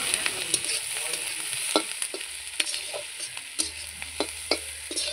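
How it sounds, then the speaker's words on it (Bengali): Sliced onions fry in refined oil for mutton biryani, a soft continuous sizzle broken by repeated scraping stirs of the spoon against the pan, close by with no talking. "তো পেঁয়াজগুলো ভাজা ভাজা হয়ে যাবে"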